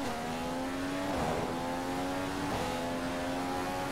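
Formula One race car engine in the F1 2015 game at the Malaysian Grand Prix, a loud steady high-pitched whine with two quick gear shifts dropping and climbing the pitch.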